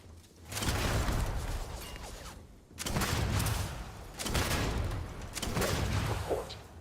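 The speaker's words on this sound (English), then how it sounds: "When in doubt, Grenade launcher." Grenade launcher fire in the Starfield video game: several heavy blasting bursts in quick succession, loud and close, with booming low rumble and a roaring wash between shots.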